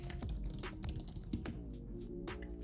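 Fingers type code on a computer keyboard in quick, irregular bursts of crisp key clicks, close and fairly quiet, alone with no voices.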